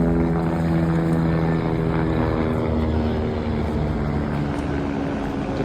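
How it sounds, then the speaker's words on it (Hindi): A helicopter flies on the route to Kedarnath in cold mountain air, its steady loud rotor and engine drone holding constant and close throughout without a break. "हेलीकॉप्टर"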